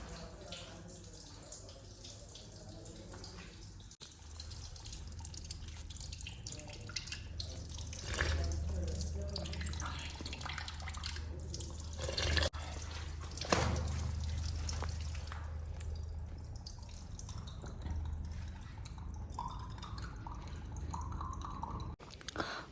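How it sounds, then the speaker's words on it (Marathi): Inside a rock cave shrine, water seeps and drips in quiet, irregular drops over a faint trickle, with a low hum and occasional soft voices and footsteps in the background. "इथून पाणी झिरपतंय पूर्ण"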